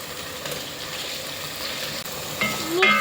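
Tomatoes with ginger garlic paste frying in a pan, a soft steady sizzle with a few faint scrapes and clinks near the end.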